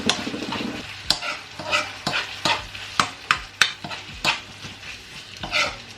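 Beef chao fan fries in a pan with soy sauce, a constant sizzle punctuated by repeated sharp spatula strikes and scrapes against the pan in an irregular rhythm, close and clear with no talk.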